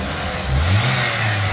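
A close four-cylinder Mazda B2300 truck engine, revived after 15 years sitting, revs up briefly, its low growl rising and falling in a single short burst with no voices.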